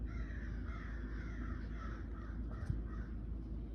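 Several crows caw loudly and repeatedly outdoors in the background, their harsh calls rising in a steady stream over constant low ambient rumble, with no talking.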